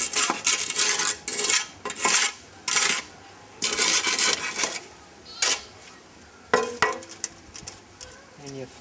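A worker scrapes across the top of a compacted earth block mold to level it, giving a run of loud, rough rasping strokes in irregular bursts, close by, with occasional scuffs and knocks between passes.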